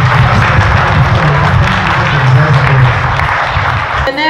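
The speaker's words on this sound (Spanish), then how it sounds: "denle un aplauso a sus papás, niños" A room full of children applauds their parents at a Children's Day festival, a dense, continuous roar of claps that holds steady for several seconds and then cuts off abruptly.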